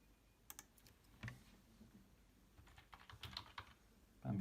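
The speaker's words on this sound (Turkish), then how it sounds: "parola yazıyorum kendime" Scattered light clicks of a password being typed on a computer keyboard during setup of a Raspberry Pi, quiet, close and irregular, with a louder thump at the end and no talking.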